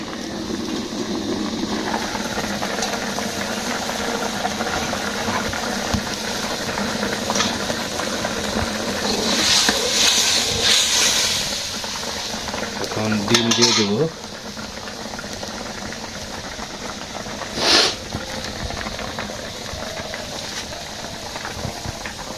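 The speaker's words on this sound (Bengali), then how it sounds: "রান্না করতেছি ডিমের তরকারি" Egg curry cooks in a pot in a village kitchen, with a steady simmering hiss, metal utensils clinking and scraping against the pot in short bursts, and a low background hum throughout.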